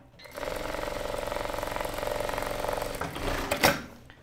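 Sewing machine stitching a seam on a women's blouse, a fast steady mechanical chatter up close that runs for about three seconds, then slows and stops with a brief clack.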